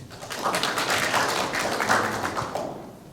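At an academic conference session, an audience claps steadily to welcome a speaker. The applause is moderate and fairly close, swells in the middle and fades toward the end.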